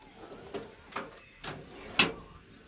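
Drawers on a metal tool trolley cart sliding open, four separate short clattering runs spaced about half a second apart, close and fairly loud, with no talking.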